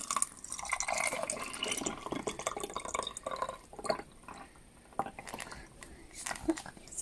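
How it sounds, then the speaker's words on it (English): Homemade hand sanitizer liquid is poured into a bottle, giving wet trickling and dripping sounds with some irregular splashes that rise and fall in loudness. "Ask an adult to help you pour it into the bottle."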